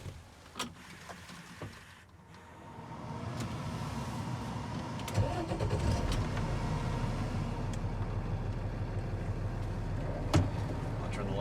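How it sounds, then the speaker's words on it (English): A truck engine cranks briefly and catches, then settles into a steady low idle rumble that carries on close by, with a few faint clicks and knocks inside the cab. "I can start this truck"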